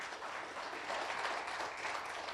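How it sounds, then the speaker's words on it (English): Audience applause at the official launch of the 11th Region 5 Youth Games in Windhoek, a steady dense wash of clapping that holds evenly throughout, fairly soft and distant with no talk. "Let's give Namibia a round of applause."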